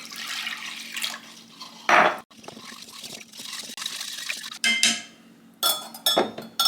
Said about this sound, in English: Now we add our water.